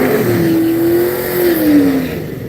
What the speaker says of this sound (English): That's a Isuzu, that little truck, that thing is moving